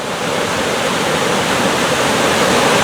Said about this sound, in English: the knocking of boulders underneath the water from just the sheer force of the water pushing them